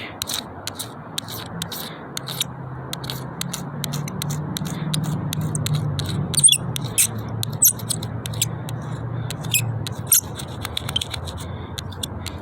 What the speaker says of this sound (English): take the supplied razor blade and you're going to scrape it at a 90 degrees